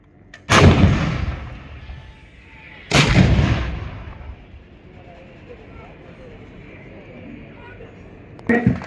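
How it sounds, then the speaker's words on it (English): Indian Army artillery guns fire during an annual firepower demonstration at Devlali, Nashik: two heavy booming blasts a few seconds apart, each with a long rumbling tail, and a third report at the end, distant and loud over a faint commentator's voice. "You are witnessing the accurate delivery of fire."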